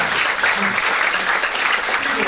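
A pageant crowd gives a steady, dense round of applause for the semi-finalists, with voices mixed in throughout.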